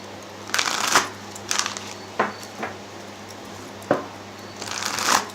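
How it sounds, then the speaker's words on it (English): Tarot cards are shuffled by hand in several short riffling bursts with brief pauses between, close up and crisp against a quiet room. "the cards are not wanting to shuffle for me."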